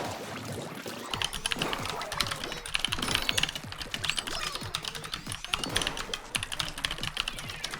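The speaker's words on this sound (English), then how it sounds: "I hear that keyboard typing" Rapid clicking of keys being typed on a computer keyboard, irregular bursts close by, with no talking.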